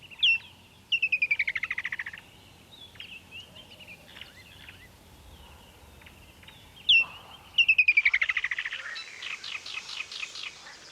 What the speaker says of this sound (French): le martin chasseur du Sénégal écoute avec attention le chant d'un concurrent